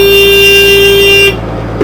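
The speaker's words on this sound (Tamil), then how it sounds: "அங்கேயும் ஹார்ன் அடிச்சிட்டாங்க" A vehicle horn sounds one long, loud, steady blast near a seaside spot where fish is being fried and rasam cooked, then cuts off into quieter background noise.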